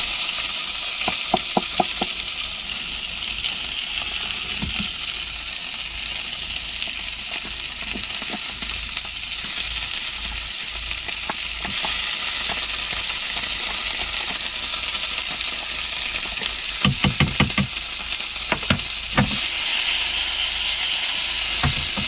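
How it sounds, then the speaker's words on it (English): Vegetable paella sizzling in a pan on a van stove outdoors, a constant hissing fry with occasional sharp clicks and scrapes of stirring or utensils against the pan. "bit of paella in the pan"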